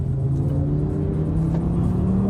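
A 520 bhp Audi RS3 race car on track, its engine a loud, close, steady droning roar with a low rumbling hum holding throughout.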